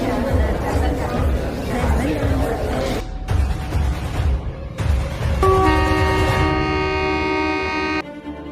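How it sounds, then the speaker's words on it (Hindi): A cartoon train runs with no driver, rumbling steadily beneath busy crowd chatter, then sounds a sustained horn toward the end. "इस ट्रेन में कोई भी ड्राइवर नहीं है, ये ट्रेन ऑटोमेटिक चल रही है।"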